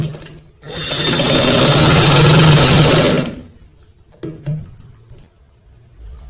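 A sewing machine stitches a child's kameez in a dense burst of whirring. The run lasts about two and a half seconds and is followed by quieter handling knocks and rustles.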